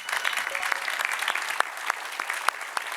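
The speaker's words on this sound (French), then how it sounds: "On peut les applaudir, hein." Applause from a live audience at a Corsican genealogy quiz show, steady clapping with sharp individual claps standing out, moderately loud and continuous.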